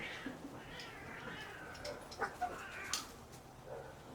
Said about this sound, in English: Now the kitty cats are going at it today.